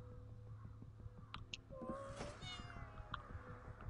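Cat meowing in the video game Ghostwire: Tokyo, a single drawn-out meow rising over a quiet musical background with faint chimes.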